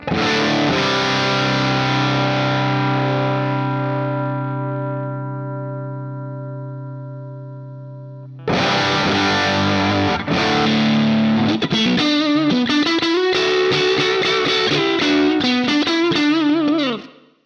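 A distorted electric guitar through a Quad Cortex amp simulator: a chord rings out and slowly decays, then a burst of driven, effects-heavy riffing and lead notes plays loudly to the end.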